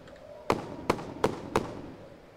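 Four sharp firework bangs from a fireworks cake and rockets in the zombie survival game Survive the Nights, evenly spaced about a third of a second apart, loud and close with short decaying tails.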